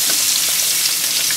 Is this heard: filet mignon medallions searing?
yes